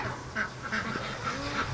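Canada geese calling outdoors on a farm at dawn, a series of honking calls roughly every few tenths of a second, moderately near over a low background rumble.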